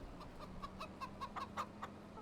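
Chickens cluck in short, quiet, evenly spaced calls in the farm game Farming Simulator 25, over a soft low background hum.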